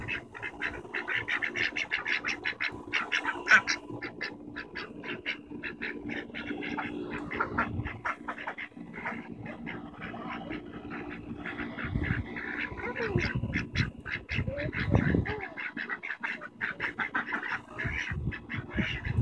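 Ducks quack at feeding time in a steady, busy chorus of rapid calls at moderate distance, rising in a louder cluster near the middle, with faint voices underneath.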